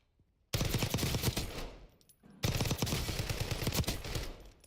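Automatic gunfire in the shooter Call of Duty Warzone, two loud sustained rapid bursts close up, split by a short pause after a brief quiet start.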